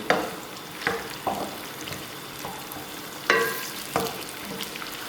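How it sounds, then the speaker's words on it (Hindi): Chilies frying in a pan with a steady low hiss, broken by several sharp crackles and stirring scrapes spaced a second or so apart. "इनको भी हल्का सा फ्राई करेंगे।"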